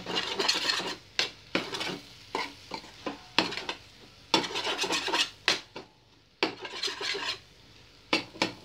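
Egg and drumstick flowers are scrambled in a pan with a spatula, making repeated rhythmic bursts of scraping and stirring. Each burst is separated by brief pauses, sounds close and distinct, and there is no talk.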